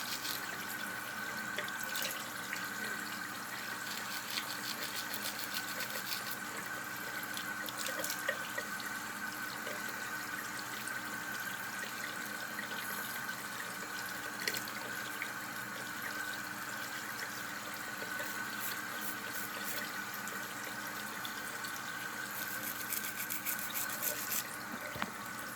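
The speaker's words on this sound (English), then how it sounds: "It's warm water, you don't want that." Warm water running from a bathroom tap, a faint steady hiss and trickle at a distance lasting the whole stretch, with scattered small clicks and no voices.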